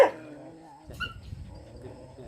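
A dog kept behind wire mesh gives a short whimper, then lets out a sharp yip, followed by softer whining and rustling nearby.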